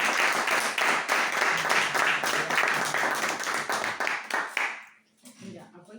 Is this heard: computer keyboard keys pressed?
no